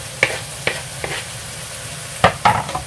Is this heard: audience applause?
no